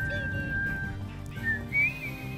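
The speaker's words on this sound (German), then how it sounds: "Kannst du bitte aufhören zu pfeifen?" Someone whistles a thin, wavering tune in Minecraft Wild West play, faint and close, drifting between sustained notes over a low murmur of background sound.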